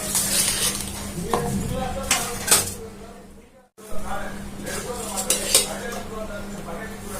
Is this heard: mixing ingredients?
yes